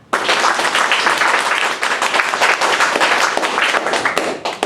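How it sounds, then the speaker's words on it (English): Dense, sustained applause from a crowd, many hands clapping loudly and continuously for several seconds before tapering at the end. "please applaud now"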